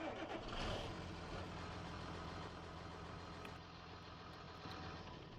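Tractor engine idling in Farming Simulator 19, a low, steady mechanical hum that rises briefly at the start, then settles and drops a little softer near the end.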